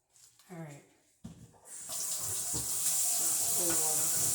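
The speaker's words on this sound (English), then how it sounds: "I'm going to turn my cold water on." Cold water running from a kitchen tap into a sink, a steady broadband rush that starts about two seconds in and continues loudly to the end, following brief speech and a clunk.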